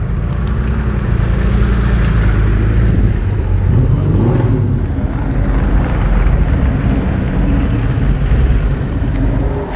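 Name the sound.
Porsche 964 cars starting and warming up at track day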